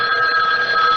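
A telephone rings in a radio drama, a steady electronic bell tone filling the second loudly and alone, with no voices over it.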